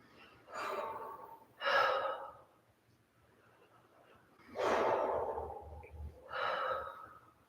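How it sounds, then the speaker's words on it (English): Deep breaths taken while standing in yoga mountain pose: four slow, close inhale and exhale sounds in an even rhythm, soft and alone. "Taking a few deep breaths."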